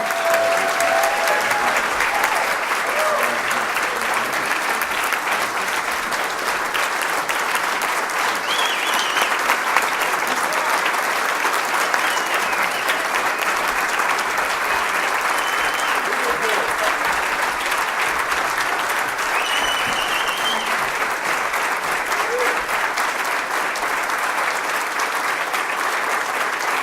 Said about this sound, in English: they're clapping, but they're clapping for you